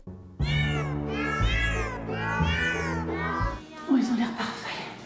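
A cat close by meows for kibble, giving three long, loud, drawn-out cries in a row, followed by a softer rustle.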